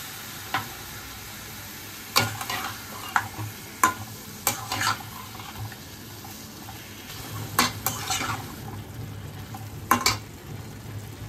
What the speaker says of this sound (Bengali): এবার আমি সর্ষে আর লঙ্কা বাটাটা দিয়ে দিচ্ছি।